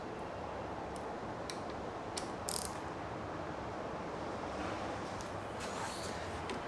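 Faint ratcheting clicks from a hand tool tightening the bolts on CNC Racing motorcycle levers, heard as a few scattered ticks over a steady low background hiss.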